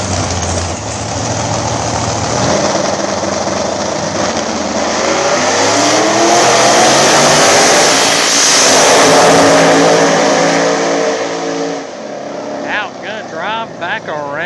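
Small-tire drag race cars, including a bracket car, launch and accelerate down the strip at Dig Days VII at the Roc; a loud, sustained engine roar swells and fades over about fourteen seconds.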